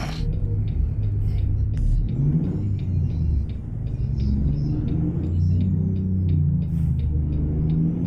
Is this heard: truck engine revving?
yes